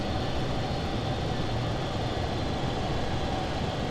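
Avro Vulcan bomber jet rolling out on the runway after landing at Waddington, a loud, steady, broadband jet engine roar heard close and continuous with no talking.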